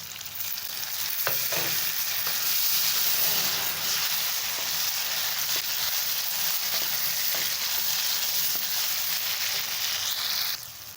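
Tomatoes frying with browned onions in a dhaba-style masala, a dense, steady sizzle that holds loud and even throughout, with a few faint stirring scrapes and no talk.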